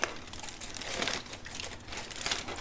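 Crinkly wrapping is pulled away from a smoked brisket that has been resting after cooking on a Pit Boss pellet grill, a close, continuous rustling and crackling with small bursts.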